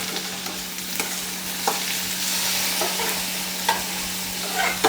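Tomatoes sautéing in a pan for a Kerala-style curry, giving a steady sizzle with occasional stirring scrapes and clinks, close and fairly loud, with no one talking.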